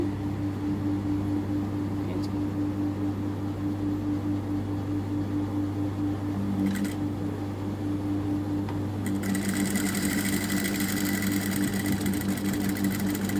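A sewing machine stitches piping along the edge of fabric, a faint, steady mechanical hum and whir running continuously, with a brighter burst of motor noise toward the end.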